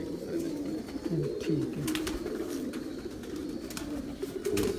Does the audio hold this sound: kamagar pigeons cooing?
yes